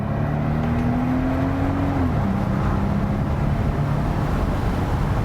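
A new car accelerates up a highway on-ramp, giving a steady, loud broadband road and engine roar that holds level throughout, with a rising engine tone that shifts pitch partway through.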